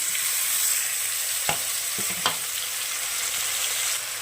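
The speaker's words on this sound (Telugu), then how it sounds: "వంకాయలు వేసుకొని నెమ్మదిగా కింద నుంచి కలుపుకుంటూ రివర్స్ వేసుకుంటూ ఇలా మిక్స్ చేసుకోవాలి" Masala-stuffed eggplants frying in a pan, a constant bright sizzle with a couple of soft clacks from the spoon as they are turned, no talking.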